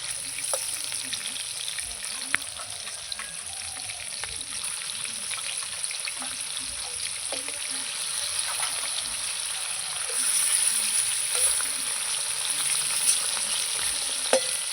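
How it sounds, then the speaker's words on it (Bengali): Pieces of stingray (shankar fish) sizzle steadily in hot oil in a pan, a continuous close crackling hiss with scattered sharp pops and occasional stirring scrapes, swelling slightly louder toward the end. "মাছগুলো ভাজা হতে থাক"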